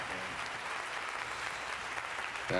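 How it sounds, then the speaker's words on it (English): Spectators at the SoCal Tango Championship applaud a wheelchair tango performance, a steady, full wash of clapping from a large crowd heard at a distance, continuing throughout. "gotta clap for this. That's so awesome. Even in the video, gotta clap for it."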